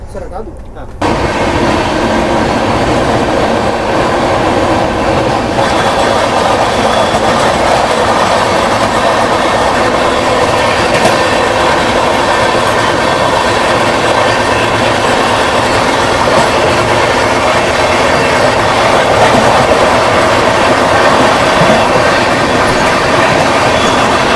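A Rajdhani Express running at speed, heard from inside a first-class AC coach: a loud, steady rumble of wheels and carriage with faint rhythmic clatter that holds unbroken throughout.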